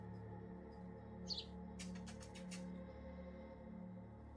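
A pet bird chirps indoors, a quick cluster of high, bright tweets followed by a short run of rapid repeated chirps, faint against a low steady room hum.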